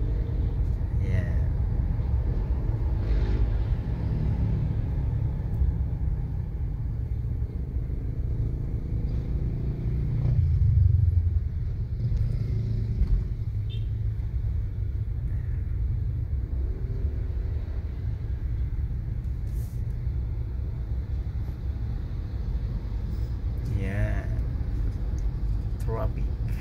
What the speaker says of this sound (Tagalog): still traffic.